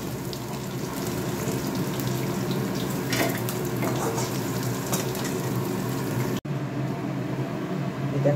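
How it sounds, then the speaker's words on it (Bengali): Cauliflower fries in a pan over low gas, a steady close sizzle and hiss running throughout with faint clinks, broken by a brief cut near the end. "এবার ফুলকপিটা ভেজে নেব।"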